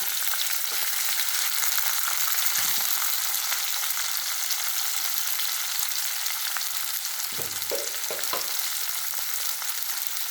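Onion, green chilli and tomato sauté in oil in a pan, giving a steady close sizzle that never lets up, with a few dull stirring knocks and scrapes.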